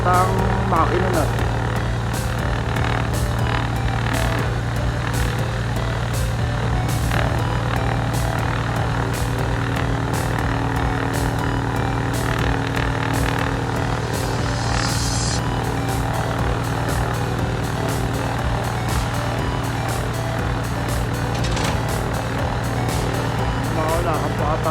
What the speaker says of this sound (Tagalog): Pinainit pa ata ang makina na.